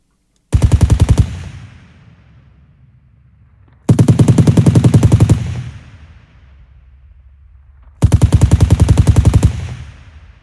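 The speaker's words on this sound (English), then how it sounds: "So what about the machine guns?" Machine gun sound effect processed with Waves Renaissance Bass for audio post-production: three loud, dense bursts of rapid automatic fire, each lasting under a second, separated by pauses with a low lingering rumble tail.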